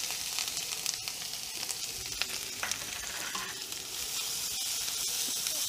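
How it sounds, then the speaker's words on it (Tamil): Ginger and curry leaves sauté in hot oil for an Onam festival lunch dish, producing a close, continuous sizzle with stirring scrapes and occasional sharper crackles, alone without voices. "இந்த இஞ்சி பச்சை மிளகாய் நல்லா வதங்கணும்."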